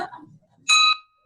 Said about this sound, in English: ring that bell, Carlos.